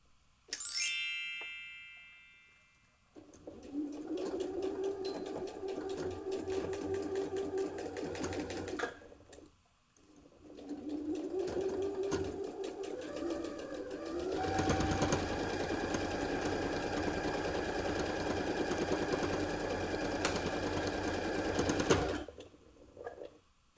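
A sewing machine stitches a zipper bow clutch at a 5/8 seam, running in long steady bursts separated by brief pauses, close and fairly quiet, with no voices.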